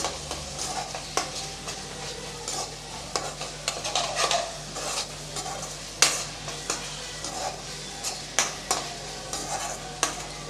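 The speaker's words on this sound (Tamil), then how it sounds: "நல்லா கலந்து விட்டாச்சு" Egg pepper masala gravy with soy sauce is stirred in a pan, with rapid, repeated spoon scrapes and taps over a quiet, steady sizzle, the rhythm busy and close.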